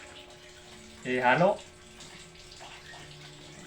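Water poured into a cooking pot, filled about three-quarters full, comes as a short splashing burst of roughly half a second, close by, with quiet talk before and after.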